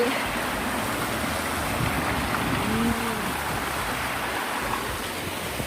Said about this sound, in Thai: ว้าวมีน้ำตกด้วย